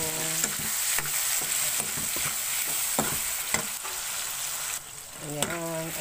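Galunggong fish frying in a pan, with steady hissing sizzle and oil crackle and repeated sharp clinks of a utensil stirring and tapping, fairly close, no talk.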